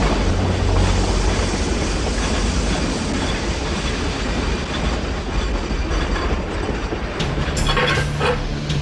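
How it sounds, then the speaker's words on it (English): A steam train runs on the rails at speed, giving a dense, loud, continuous rolling roar with faint clickety-clack, and brief metallic screeches rising near the end. "Stop the train."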